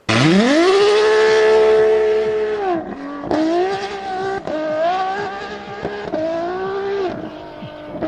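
A high-revving Ferrari V12 hybrid engine roars loudly, holding a steady pitch before dropping and surging through several gear changes, close and alone.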